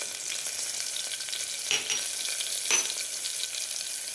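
Close, steady frying hiss fills a pan as turmeric goes in, with two brief scraping stirs of a spoon partway through and no one speaking.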